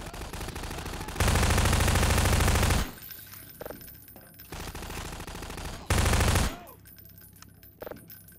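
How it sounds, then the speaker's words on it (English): Automated turrets in Half-Life 2 Episode 2 fire two sustained bursts of rapid machine-gun fire, loud and dense, separated by a busier stretch of game noise with scattered shots and clatter. "Turrets work pretty good."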